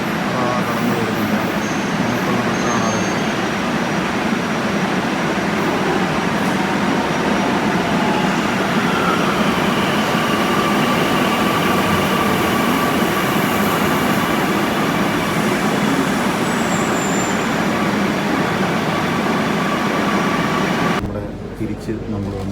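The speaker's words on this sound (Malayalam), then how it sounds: "നമ്മുടെ മെട്രോ കടന്നു വരുന്നുണ്ട്" Kochi Metro train pulling into a station, a loud steady rumble and whine of the approaching train filling the platform for about twenty seconds, fading sharply near the end, with people talking in the background.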